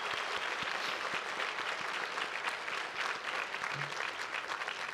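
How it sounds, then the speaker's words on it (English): A convocation audience applauds the graduate studies staff at a college ceremony, giving sustained, full-room clapping with a few sharper claps standing out, heard from within the crowd. "please give them a round of applause"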